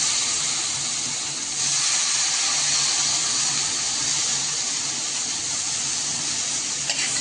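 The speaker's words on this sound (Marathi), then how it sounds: "आता याच्यामध्ये आपण गवार टाकून घेऊया" Cluster beans dropped into a pan of frying masala, a loud, continuous sizzling hiss that holds steady for several seconds with no talking.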